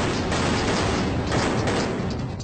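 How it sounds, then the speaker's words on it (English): Rapid gunfire rings through a restaurant during the Mumbai terror attack, a dense, continuous volley of loud cracks with no pause, reverberating in an indoor room. "we heard consecutive shots just ring through the restaurant"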